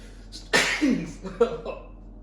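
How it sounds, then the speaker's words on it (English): A sudden loud sneeze bursts out close by, followed by a couple of shorter breathy exhalations and sniffs trailing off over about a second. "I couldn't just get to the end of the vlog before sneezing"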